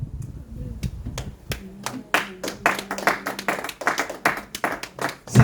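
A church congregation claps and applauds together, a dense patter of hand claps building from scattered beats into sustained applause, with a preacher's voice heard at the start.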